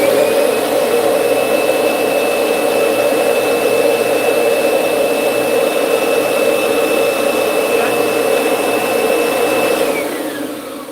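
A vacuum cleaner under repair in a shop runs loud and steady with a high whine, then starts winding down at the end; no talking.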